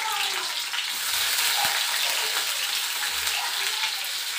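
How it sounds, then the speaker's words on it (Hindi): Garlic sizzling in hot oil in a pan in a home kitchen, a constant loud hiss and crackle filling the clip without pause, with a few faint low knocks underneath. "और इसे मैं लाल होने तक भूनूंगी"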